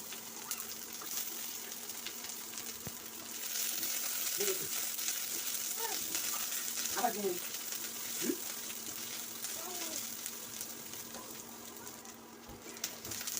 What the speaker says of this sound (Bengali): এই তেলের মধ্যে আমি এখন রসুন আর পেঁয়াজ ভেজে নেব